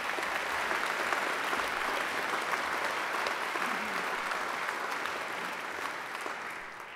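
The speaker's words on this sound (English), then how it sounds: "So I think Angela deserves another great round of applause." Sustained audience applause at a university graduation ceremony, a dense, even roar of clapping from a large crowd lasting the whole stretch and tapering slightly at the end.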